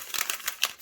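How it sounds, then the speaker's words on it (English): Plastic packaging of a ZURU Mini Brands Disney toy capsule being ripped open, a brief faint close crinkle and tear with several quick rustling bursts. "So let's get to ripping and opening."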